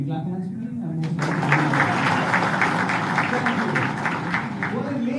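An audience at a Micron facility inauguration claps for the event host, broad sustained applause starting abruptly after a voice and continuing steadily, moderately loud with someone talking faintly near the end.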